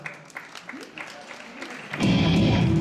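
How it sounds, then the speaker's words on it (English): Convention panel audience breaks into loud, sustained applause near the end, following a stretch of scattered claps and crowd noise; a round of clapping for a guest actor at a fan event. "A round of applause for"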